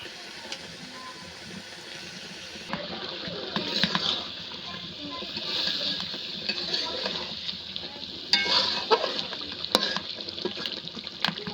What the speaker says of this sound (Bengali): এর মধ্যে মাছগুলো দিয়ে দেবো। মাছগুলো একটু কষিয়ে নেব।